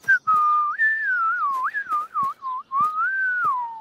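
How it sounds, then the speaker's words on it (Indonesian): A child whistles a wavering tune by lips alone, no juice box involved, in a string of short rising and falling notes with brief gaps, close and clear with no talk. "bisa bersiul tanpa kotak jus"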